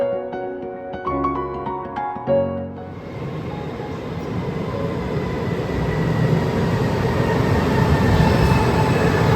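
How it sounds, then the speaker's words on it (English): High-speed train bound for Venice, Italy, heard from inside as a steady rumbling roar that swells and stays continuous after a brief quieter start, with no talking. "we are now on the high-speed train to Venice"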